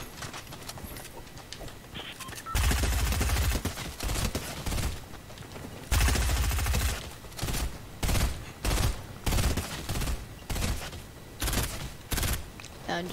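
Fortnite battle royale gunfire: loud bursts of rapid shots come in uneven clusters, with some longer sustained volleys over a busy game background.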